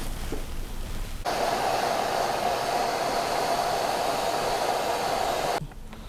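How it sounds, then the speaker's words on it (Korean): A hair dryer blows steadily on a freshly painted watercolor house, switching on after a quiet moment and running as a loud, even whoosh for several seconds before cutting off near the end. "이제 드라이기로 말려야 되겠죠?"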